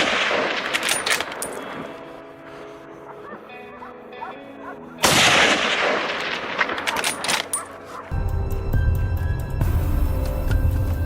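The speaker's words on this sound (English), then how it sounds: "we jumped out of the vehicle, aimed our scopes, and fired continuously" Rifle gunfire rings out in sharp bursts and rapid strings of shots outdoors during a wild boar hunt, with loud cracks and echoing reports over background noise.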